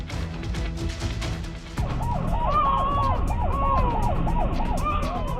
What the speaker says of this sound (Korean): 응급 환자를 태운 구급차였는데요